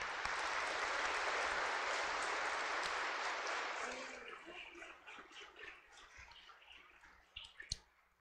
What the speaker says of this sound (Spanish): Un aplauso para así el Antonio.